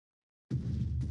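Minecraft fireworks go off in a sudden loud blast after half a second of silence, followed by a dense, continuous crackling rumble that carries on to the end.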